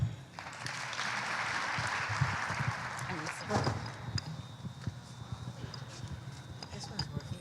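An audience applauding to welcome a speaker at a climate change presentation event, a dense patter of clapping that builds, peaks and then thins out, with some voices mixed in.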